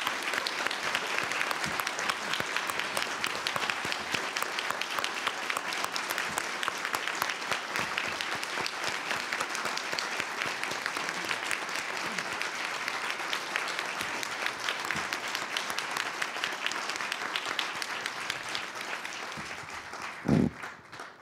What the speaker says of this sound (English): Please join me in applauding the 2012 State Professors of the Year